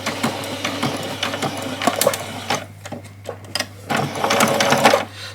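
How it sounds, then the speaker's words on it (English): A sewing machine stitches along the straps of a doll's dress in steady, close bursts of rapid mechanical clatter, with a short pause in the middle before the stitching resumes. "I'm just going to stitch them right the way along."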